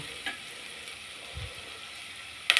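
Cold-pressed oil frying in a pan for a village-style karunai kilangu kara kulambu, a steady faint sizzle with a couple of brief clinks, no voices.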